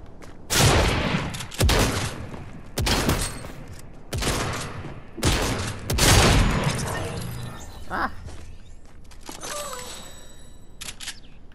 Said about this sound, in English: Seriously, why is there shots?